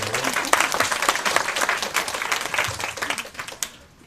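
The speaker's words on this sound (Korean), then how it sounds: "박수 좀 쳐봐." Lecture audience in a hall bursts into dense applause, many hands clapping loudly and steadily for about four seconds before tapering off, with a few stray voices mixed in.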